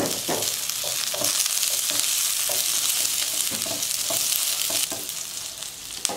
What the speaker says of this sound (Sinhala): කරල් තුනක් එකක් දාගන්නවා පේ ටික බැදගමු.